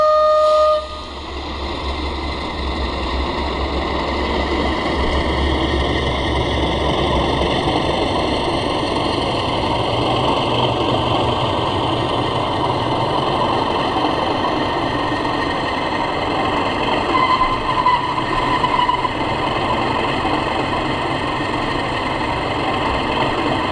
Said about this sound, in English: as the locomotive shuts down there